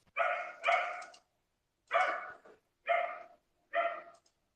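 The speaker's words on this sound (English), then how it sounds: "There is a dog somewhere." A dog barks somewhere nearby in five sharp, clear barks: a quick pair, then three evenly spaced single barks, with silence between them.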